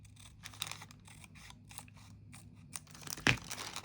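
Scissors snip through a parchment paper pouch, cutting away the front seam in a few quiet, crisp cuts with one sharper close snip near the end.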